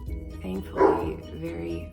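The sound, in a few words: dog barking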